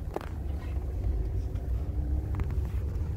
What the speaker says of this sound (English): Oh, there's a car coming.